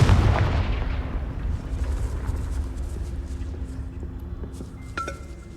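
A Confringo fire-blast spell from the Hogwarts Legacy video game lands as a loud booming burst at the outset, then rolls off into a long, rumbling decay with a faint crackle near the end.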